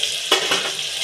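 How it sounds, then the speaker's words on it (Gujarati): Chopped bottle gourd, chillies, capsicum, carrot, tomato, peas and corn sizzling in a pan for wheat dalia khichdi, with a soft stir or drop near the start over a steady frying hiss. "પછી આપણે બધા વેજીટેબલ્સ નાખશું એમાં."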